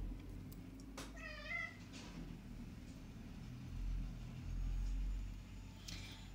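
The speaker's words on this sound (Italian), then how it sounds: "scusate ho il gatto sotto che miagola" A house cat meows from below the room, a short rising-and-falling meow near the start over quiet low room hum, with a faint rumble later and no talk.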